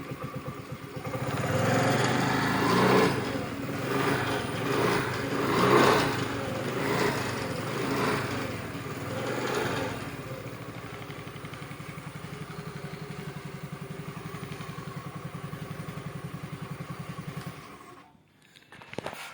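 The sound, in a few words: Honda scooter engine running after self-start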